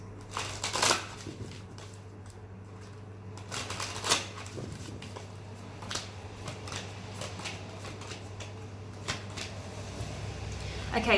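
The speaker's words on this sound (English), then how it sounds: "All right, 2 more shuffles." Tarot cards being shuffled close by in repeated quick riffles and soft slaps, with light handling noises between them.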